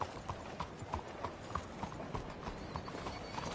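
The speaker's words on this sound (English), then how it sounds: "¡Arre, caballo!" Horse hooves clip-clop steadily on a road in the Red Dead Redemption 2 video game, a close, regular rhythm of hoof strikes carrying on without pause under faint background noise.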